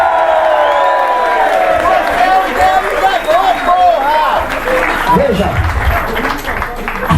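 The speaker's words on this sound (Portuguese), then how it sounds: "Salva de palmas para a ameaça fascista" Crowd applause and cheering at a political speech in Salvador, Bahia, loud clapping and voices rising over several seconds while people shout and talk over it.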